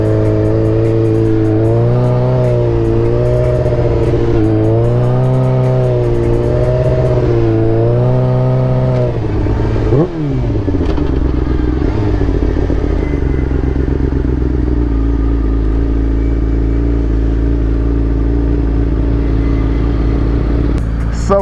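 A Yamaha R6 supersport motorcycle engine revving hard through the gears, loud rising and falling wails with quick shifts, then settling into a steady high drone, close and continuous.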